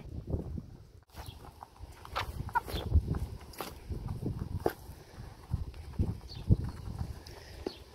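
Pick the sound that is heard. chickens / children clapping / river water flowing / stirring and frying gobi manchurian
chickens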